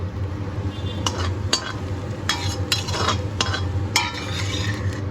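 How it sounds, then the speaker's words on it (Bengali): Fried potatoes are lifted out of a wok, with a low background hiss and several sharp metallic scrapes and clinks of a utensil against the pan spread across the clip. "কড়াই থেকে তুলে নিচ্ছে আলুগুলো"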